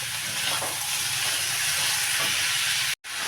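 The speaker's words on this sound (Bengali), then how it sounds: "কালো জিরা আমার গরম হয়ে গেছে। এর ভেতরে দিয়ে দিচ্ছি আমি কেটে রাখা ভাজাটা।" Fried pumpkin pieces sizzling in hot oil with nigella seeds, stirred now and then, a loud continuous crackling sizzle with a momentary cut near the end, no voices.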